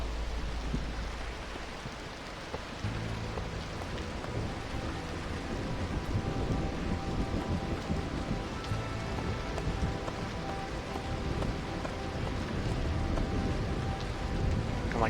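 Steady heavy rain hisses during a storm season in the Against the Storm video game, a dense, constant downpour with low rumbling underneath and no voices.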